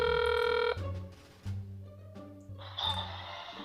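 A telephone rings on a call: a steady electronic ring tone stops abruptly, followed by faint clicks, hums and line noise.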